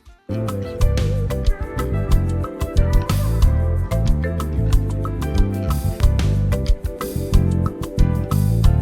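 An EQ-processed bass guitar with high-mid boosts around 3 kHz and 5.5 kHz plays a continuous, punchy, bright-edged line with rhythmic plucked notes, loud and alone without voices.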